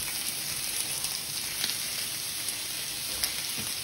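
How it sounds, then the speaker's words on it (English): Onions and celery frying in a hot pan give a steady, even sizzle with crackly high-end hiss and a few faint pops, close and continuous with no voices. "put this pan hot, and we're going to throw in all of our onions"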